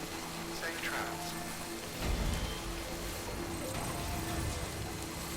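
Steady rain pours down in the video game Death Stranding, a dense, even hiss that fills the whole stretch, with a low rumble swelling briefly midway.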